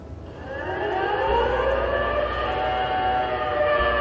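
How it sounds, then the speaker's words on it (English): A lighthouse air siren fog signal gives a loud, sustained wail with layered harmonic tones that holds steady throughout, joined by a deep low rumble partway through, with no talking. "The second sound between 1911 and 1936 was an air siren."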